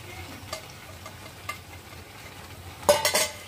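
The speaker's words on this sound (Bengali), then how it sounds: "আমি কিন্তু বাটিটা ধুয়ে অল্প একটু জল কিন্তু দিয়ে দিচ্ছি" Water splashing into hot oil and spices in a wok for a Bengali small-fish and winter-vegetable chorchori sets off a short, loud burst of hissing sizzle near the end, after quieter stirring clinks and a low steady hum.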